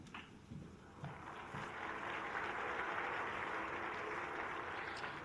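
Sustained audience applause in a snooker arena at the 2021 German Masters final, a steady broadband wash of clapping that swells after the first second and holds at an even level, fairly distant and without voices.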